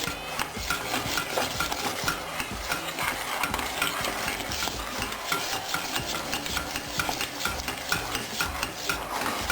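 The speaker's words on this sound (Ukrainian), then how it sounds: "і все знову перемішую" A spoon scrapes and stirs steadily through thick pumpkin porridge with butter and cinnamon in a pot, with a continuous soft sizzling bubble underneath, close and fairly quiet.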